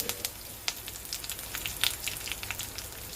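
Mustard seeds, chillies and curry leaves frying in hot oil for a Kerala-style kalan curry, a faint, close crackle with scattered small pops and spits over a low background hiss.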